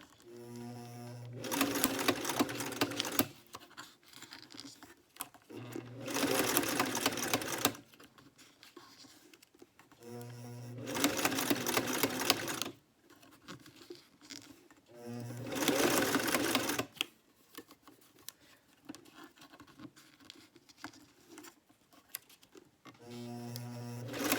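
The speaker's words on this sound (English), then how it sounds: "I won't talk too much because the sewing machine can be loud." Sewing machine stitching strips of paper into ribbons runs in four long, loud bursts of rapid mechanical whirring, separated by quieter pauses with faint handling sounds.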